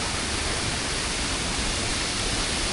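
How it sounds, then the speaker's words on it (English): Steady broadband rush of a waterfall at a rocky pool in Moalboal, loud and continuous with no talk over it. "Pretty cool waterfall though"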